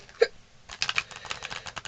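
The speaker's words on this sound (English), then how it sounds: "Oh, I got the hiccups." A single short hiccup, followed by faint ticking, clicking sounds at low volume.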